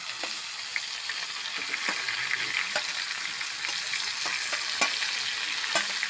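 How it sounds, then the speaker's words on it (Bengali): Grated ash gourd sizzles and fries in a hot wok with ginger, a steady close crackle with occasional sharper pops and stirring clicks, no voices. "এবার আদাটা ফোড়নে ভাজা হয়ে যাওয়ার পরে চাল কুমড়োটা দিয়ে দেবো"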